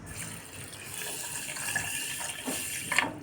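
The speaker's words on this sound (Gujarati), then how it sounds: "એમાં આપણે પાણી ઉમેરીશું." Water pours steadily into a pan of sugar and cardamom, a continuous splashing trickle heard up close, ending with a few brighter splashes and clinks.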